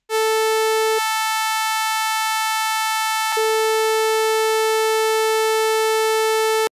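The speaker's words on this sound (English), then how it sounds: "This natural phenomenon is known as the harmonic series" A steady synthesized sine wave tone with a full harmonic series of pure harmonics above it; the lowest pitch drops out for a couple of seconds, then returns.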